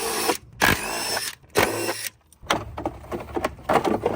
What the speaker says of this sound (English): There are a bunch of 10mm bolts that you can remove.